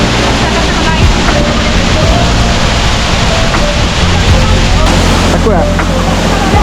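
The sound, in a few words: waterfall about 30 meters high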